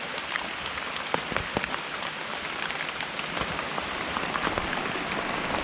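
Continuous rain falls on leaves and ground in a rural woodland during mushroom foraging, an even, close hiss of drops with scattered louder patters and no voices.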